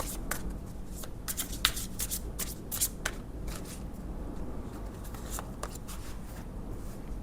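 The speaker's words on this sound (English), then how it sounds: "I'm just going to take some cards for group number 2." Tarot cards being picked up and shuffled by hand, a close, quiet run of riffling and flicking bursts with soft slides in between.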